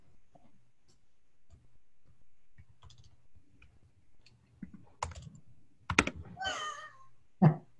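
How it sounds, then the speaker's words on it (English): Typing on a computer keyboard during an online meeting, sparse soft clicks at first, then quicker bursts of louder key presses toward the end, close and with no talk over it. "I'm going to stop typing for a second."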